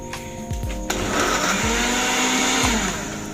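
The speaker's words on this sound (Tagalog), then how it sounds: "this is the tomato. We need to blender it." Kitchen blender whirring as it purées tomatoes for a chicken stew, the motor spinning up and then holding a loud, steady roar with a few thuds near the start, no voices.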